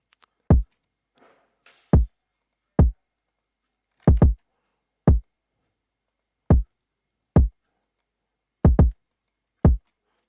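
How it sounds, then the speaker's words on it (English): A deep, punchy electronic kick drum plays alone in a sparse, uneven pattern, with some hits doubled in quick pairs and silence between. "the kick pattern on its own sounds like this"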